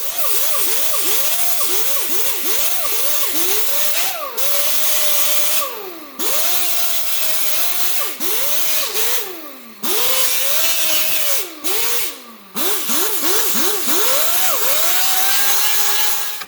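An angle grinder cuts a line into metal at a 45-degree angle, its loud motor whining in repeated rising and falling passes with brief pauses between cuts, no talking.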